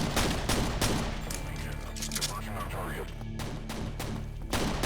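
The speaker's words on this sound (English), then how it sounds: "I heard one guy shooting at me." Rapid, loud gunfire from enemies shooting at the player in the first-person shooter Quake, heard as a dense run of close, sharp shots with a few distinct heavier blasts at the start and end.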